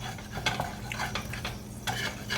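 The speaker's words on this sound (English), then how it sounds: "we do have some pieces where the skin kind of stuck to the bottom of the pan, I'm going to go ahead and scrape that off" Salmon skin stuck to the bottom of a pan being scraped loose for salmon and shrimp fried rice, a run of close scraping and stirring strokes with a few metallic clinks, over a steady low kitchen hum.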